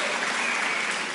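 Dense audience applause on a stage event, steady and loud, a short burst of continuous clapping with no voices over it.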